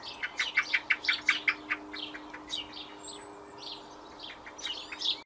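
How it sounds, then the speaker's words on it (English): A blackbird sings a run of bright, rapid chirps and whistled phrases, fairly faint and alone over a quiet background, with a bouncy rhythm that thins out toward the end. "blackbird"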